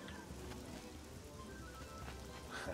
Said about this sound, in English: The rain just goes straight through the ceiling.